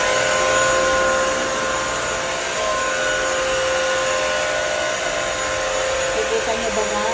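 A wet-dry vacuum cleaner runs in dry mode with a loud, constant motor whine and airflow roar throughout, close and unbroken, while a person talks faintly underneath.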